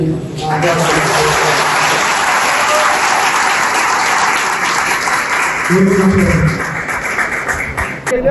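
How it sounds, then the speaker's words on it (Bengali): Loud, sustained applause from a large crowd at a university hall festival, steady throughout, with a brief voice rising near the end. "জি জন্য অনেক বড় একটা হাততালি"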